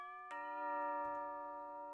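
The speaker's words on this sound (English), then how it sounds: "we can ring the bell again" An electronic doorbell chime in a Roblox Studio trick-or-treat game rings out as a steady, clean ringing tone that holds and sustains quietly for nearly two seconds.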